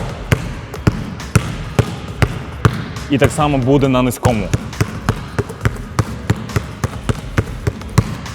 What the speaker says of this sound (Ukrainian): Буде середнє ведення за що за рахунок сильного удару.